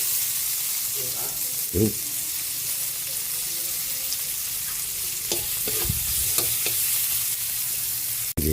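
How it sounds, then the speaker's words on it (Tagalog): Chopped onion drops into a hot pan and fries with a steady, close sizzle while a spoon stirs and scrapes through it. A voice speaks briefly over the cooking. "Ilagay na rin natin yung buyas."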